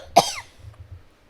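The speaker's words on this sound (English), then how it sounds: "I think I just coughed it out" A woman lets out a single sharp, close cough, followed by faint breathy rumbles as it trails off.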